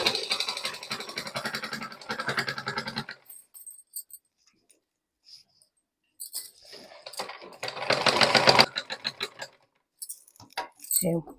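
A sewing machine stitches the side of a pillow made from waste clothes, coming in as bursts of rapid mechanical whirring with quiet gaps between runs.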